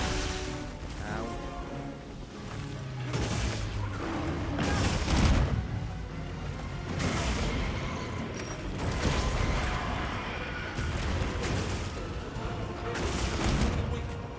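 Explosions and lightning strikes in Monster Hunter Wilds during the final battle with Zoh Shia, a dense run of loud booming bursts and crackling blasts repeating over several seconds.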